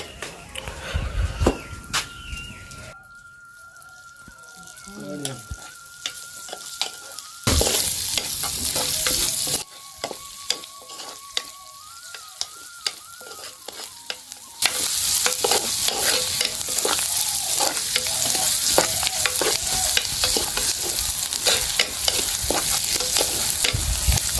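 Onions frying and being stirred in oil for a village-style crab curry made with stone-ground spices, a steady loud sizzle broken by scraping stirs, with a spell of quieter cooking in the middle and no one talking.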